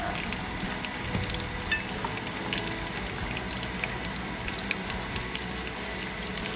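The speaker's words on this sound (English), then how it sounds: "you want to keep it like at medium-high when you're first frying the onions and garlic" Onions and garlic fry in a pan for Fijian-style chicken curry, giving a soft, continuous crackling sizzle with scattered small pops, heard close and fairly quiet with no talking.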